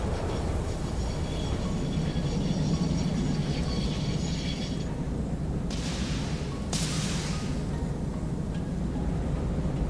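A train runs on a railway in the factory-building game Satisfactory, a loud continuous rumble and rolling roar with a couple of brighter hissing bursts midway, with no talking.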